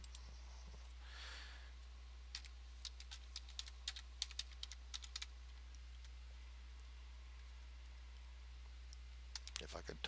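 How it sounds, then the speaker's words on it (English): Faint, quiet clicks of typing on a computer keyboard come in short uneven bursts over a low steady hum, with a soft breath or sigh near the start and a quick flurry of keystrokes at the end. "If I could type, that would make things so much better."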